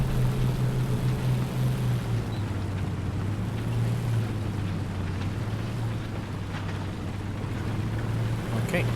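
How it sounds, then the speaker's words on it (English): A Maus tank engine rumbles steadily in a video game, a low continuous drone with a faint hiss layered over it, running without pause the whole time. "I feel like the engine noises are louder."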